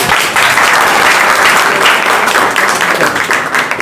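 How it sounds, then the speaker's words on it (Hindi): Loud, close audience applause in a coaching class, a full burst of many hands clapping steadily before a song, fading slightly at the end. "सॉन्ग के पहले एक ताली हो जाए"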